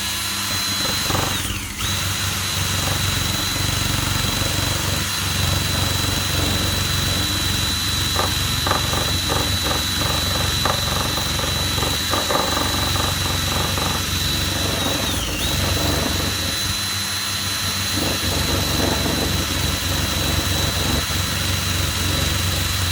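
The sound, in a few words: electric drill with buffing attachment polishing old brass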